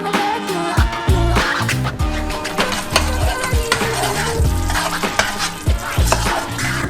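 Caramel cooking in two pans on a stove, heard as a steady loud sizzle with repeated scraping and stirring of utensils against the pans and occasional metallic knocks.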